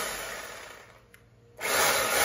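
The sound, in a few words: Boss three-function concrete drill running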